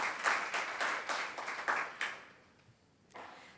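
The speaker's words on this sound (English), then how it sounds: "If you could please give another round of applause for everyone who's worked so hard over the last couple of months." A small audience at a startup week opening session claps for the event organizers in rhythmic bursts of fairly quiet applause that fades out midway, leaving near silence with one faint knock near the end.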